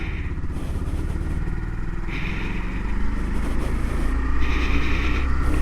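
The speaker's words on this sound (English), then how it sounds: "I don't know if you guys can hear the motor here" A 2019 Honda Monkey motorcycle engine runs steadily up close, a continuous low rumble that swells slightly toward the end, with no talking over it.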